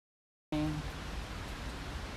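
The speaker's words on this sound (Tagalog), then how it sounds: "kusog ayong ulan diri sa amo ang lugar" Heavy rain starts abruptly after a brief silence, then becomes a steady, dense hiss of downpour that continues evenly to the end.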